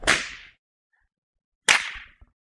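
Two sharp, loud whip cracks, about a second and a half apart, each a sudden snap with a short decaying tail, separated by near silence.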